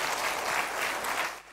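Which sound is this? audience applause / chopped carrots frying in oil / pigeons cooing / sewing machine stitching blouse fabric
audience applause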